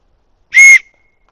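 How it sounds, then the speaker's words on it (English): A single short, shrill whistle blast from a homemade willow bark whistle, clear and loud, lasting about a quarter second, then silence. "Hey, whistle."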